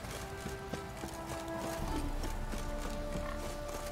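Horse hooves clip-clopping in The Witcher 3: Wild Hunt, a steady walking rhythm of muted thuds over a quiet game ambience, with no talk over it.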